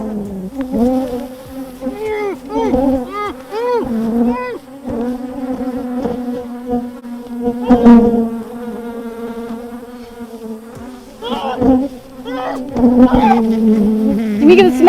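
A swarm of bees buzzes close around an open beehive, a loud, wavering drone with individual insects swooping in and out in rising and falling pitches.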